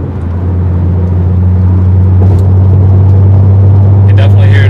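Volvo C30 fitted with a new exhaust, accelerating from a 60 mph sixth-gear cruise, gives a steady low in-cabin drone that holds loud throughout with a smooth rise in engine note.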